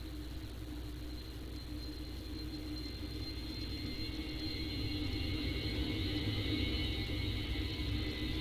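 Jet engines of a Boeing 737-800 in the X-Plane 11 simulator, a steady droning roar with a high whine that swells slightly louder over time, continuous with no voices.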